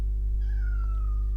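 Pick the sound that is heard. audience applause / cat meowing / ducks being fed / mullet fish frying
cat meowing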